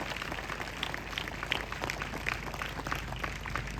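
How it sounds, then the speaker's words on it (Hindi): A congregation at a Christian spiritual gathering applauding, a steady, fairly faint patter of many hands clapping together for a few seconds with no one speaking. "जोरदार एक बार और ताली बजा के हम प्रभु को धन्यवाद देना चाहते हैं"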